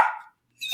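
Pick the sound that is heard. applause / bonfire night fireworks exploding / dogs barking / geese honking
dogs barking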